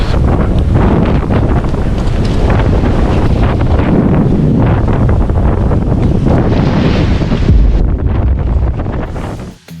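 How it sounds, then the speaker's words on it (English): A 30-knot squall hits a sailboat in the English Channel as loud, roaring wind buffets the microphone nonstop, with rushing waves beneath it, before it drops away at the very end. "this is the Squall arriving, pretty much 30 knots has just arrived"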